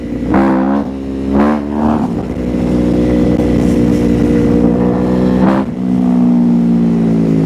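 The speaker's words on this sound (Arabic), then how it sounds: "موتوسيكل زي الياماها الR1 ده، موتوسيكل قوي، موتوسيكل الموتور بتاعه كروس بلين غشيم" A powerful Yamaha R1 sport motorcycle fitted with a Two Brothers aftermarket exhaust revs hard several times, then pulls away and holds a loud, steady engine drone before another sharp rev near the end.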